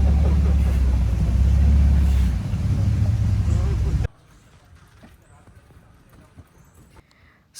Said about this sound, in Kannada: ಈ ಥರ ಮ್ಯಾಂಗ್ರೋವ್ಸ್ ಮಧ್ಯೆ ಹೋಗುತ್ತೆ ಸ್ಪೀಡ್ ಬೋಟ್